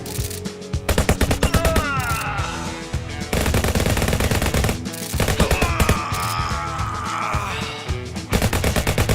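Machine gun fire in the VR game Guns'n'Stories: Bulletproof, loud and close rapid automatic bursts almost without pause, broken by a few short gaps between strings of shots, with ricochet-like whines over the firing.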